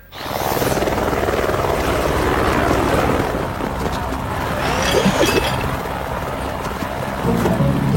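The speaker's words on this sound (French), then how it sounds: "Il nous faut un hélicoptère." Helicopter in an animated spy series, a loud, steady whirring roar of rotor and engine running throughout, close and continuous with no talking.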